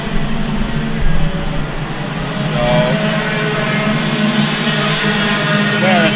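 Racing karts roar past the start-finish line at a karting championship race at WhiteRiver Park, a loud sustained engine drone with rising and shifting tones, under a commentator's voice.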